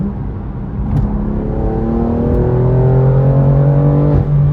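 BMW M2 CS with a loud exhaust accelerating, driven with a manual gearbox, the engine note rising steadily through a gear with a brief shift dip, loud and close from inside the car.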